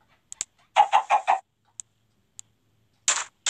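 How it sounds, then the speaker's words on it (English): Several short, clipped clucks from chickens in a video game in quick bursts, with sparse pauses and tiny clicks between them, synthetic and close. "They make the clucking noise"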